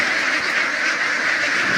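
Many ducks quack continuously at a Cebu duck farm with a flock of around 350 native itik, a dense, loud chorus of overlapping calls with no pauses.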